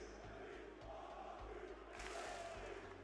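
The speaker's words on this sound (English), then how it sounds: "The crowd is absolutely pumping right now." Crowd cheering in the Copper Box Arena at an RLCS London Rocket League watch party, a faint, distant roar that swells louder near the end over a rhythmic thumping beat.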